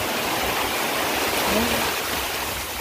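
Rain arriving outdoors in the Vietnamese countryside near coconut trees, a steady broadband wash of falling water that holds evenly loud and close throughout, with no voices.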